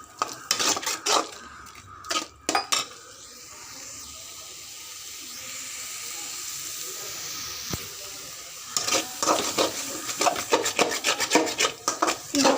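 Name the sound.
stirring and sautéing blood fry (ratha poriyal) over high flame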